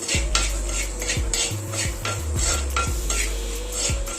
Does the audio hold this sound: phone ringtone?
no